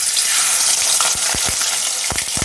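Pumpkin flowers dipped in masoor lentil batter with black cumin frying in hot oil, a dense close sizzle with sharp crackles and spits scattered through it.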